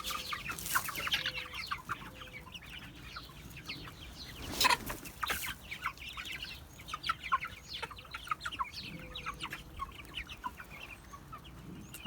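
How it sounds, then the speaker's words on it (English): Young Brahma chickens coming out to feed in a mixed-age backyard flock, clucking softly and repeatedly at a moderate distance, with one louder squawk partway through and no talk. "Look, there's the little Brahmas coming out today for food."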